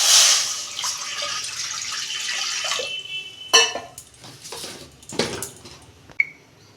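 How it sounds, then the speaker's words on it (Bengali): Water pours into a kadai (wok) on a home stove, a steady splashing stream that fades out, followed by scattered clinks and small knocks of the pan. "কড়াই জল দিচ্ছি"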